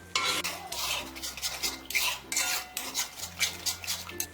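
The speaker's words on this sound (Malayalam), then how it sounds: "ഇനി ഇതിലേക്ക് നമ്മൾ ഈ കലക്കി വെച്ചിരിക്കുന്ന ബാറ്റർ ഉണ്ടല്ലോ, അത് ഒഴിച്ചു കൊടുക്കാം" Batter poured and stirred in a bowl, a run of close scraping, clinking swishes of a utensil against the bowl, steady and unhurried with no talking.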